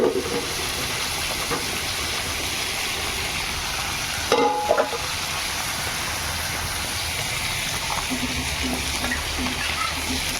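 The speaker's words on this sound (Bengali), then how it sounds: "আর এদিকে ঝোল ফুটে গেছে।" Fish and prawn curry boils in a pan, giving a steady bubbling hiss with faint sizzling, plus a brief clatter partway through, and no talking.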